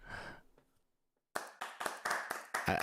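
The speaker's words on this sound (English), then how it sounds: "I love the clapping feature." Clapping from the virtual clapping feature of an online event: after a fading first burst and a second of silence, a run of about eight sharp, fairly loud claps follows at an uneven pace.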